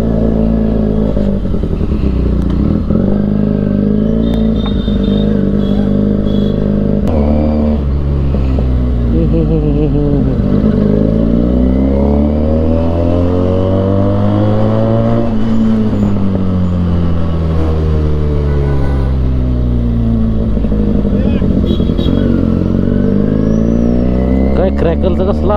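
A 4x4 off-road vehicle's engine revs loudly and close by in repeated rising and falling sweeps, with clattering mechanical noise and people talking over it.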